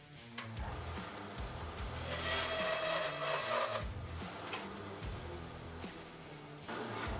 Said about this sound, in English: And I'm going to cut off this extra bit.